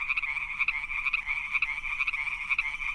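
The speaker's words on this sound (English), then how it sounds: "Imagine frogs everywhere on your house and bed." Frogs croaking in a dense chorus, a steady pulsing trill with rhythmic peaks, moderately faint and alone.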